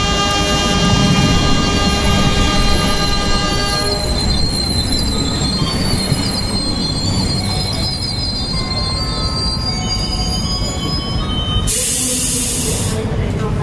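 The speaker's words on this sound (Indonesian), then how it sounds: "Beberapa menit kemudian, kereta datang perlahan. Suara rodanya bergema di seluruh peron." A passenger train pulls slowly into a station platform on the last run to Banyuwangi, its wheels squealing in long, high, sustained tones that echo over a steady, loud rumble, with a sudden hiss near the end.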